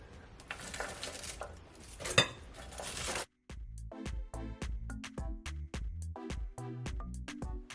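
Chopped cabbage goes into a bowl with a scraping, rustling rush, then a run of sharp clinks and knocks of dishes and utensils follows at a steady pace, close and fairly quiet, with no talking.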